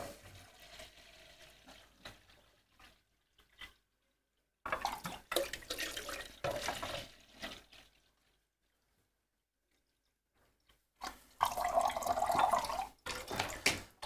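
Tap water runs into a sink in two bursts to rinse paint brushes, a steady close splashing stream that starts and stops, with quiet gaps and small drips between.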